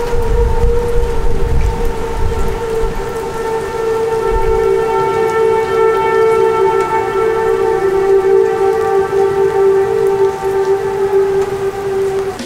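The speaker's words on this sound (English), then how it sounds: "that's the crazy siren they play when there's a tornado watch in our area" Tornado watch sirens wail steadily outdoors, a sustained multi-tone siren drone holding loud for the whole stretch over rainy, rumbling background noise.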